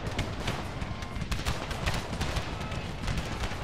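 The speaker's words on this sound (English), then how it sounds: "I'm going to send my artillery, though, to kind of open fire on them." Artillery and musket fire in a Civil War video game recreating Pickett's Charge, a steady rumbling barrage of overlapping booms and cracks, moderately loud, with no talk.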